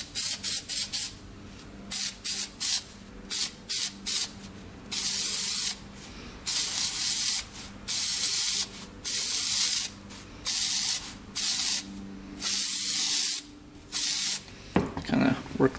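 Oil sprayed from an aerosol can onto a dirt bike air filter, a series of loud, close hissing bursts of varying length with brief pauses between, and faint handling noises.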